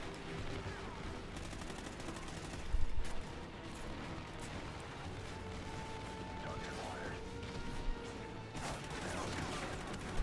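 Gunfire from Call of Duty Ghosts on the Wii U, dense rattling automatic fire and scattered shots under a steady din of battle noise, with a heavier blast near the start; someone talks over it.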